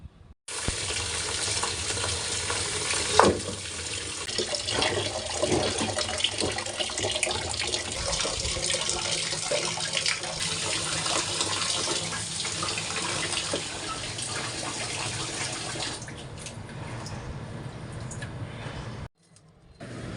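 Tap water runs steadily while salted dried fish (shutki) is washed by hand in a sink, with brief handling clatter; the broad wash of sound holds for most of the stretch, then cuts off near the end.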